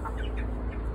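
A chicken clucks in a few short, close calls over a steady low background hum, quick and choppy.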